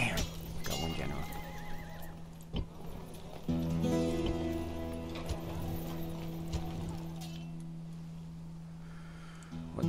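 Horses in the strategy game Rome: Total War, with a neigh and clip-clopping hooves over a droning music bed, alongside a sharp knock, mid-level and fairly close.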